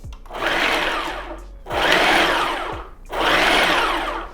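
Ninja PrecisionPro food processor chopping carrots on its chop setting, three loud close whirring bursts of about a second and a half each, separated by brief pauses.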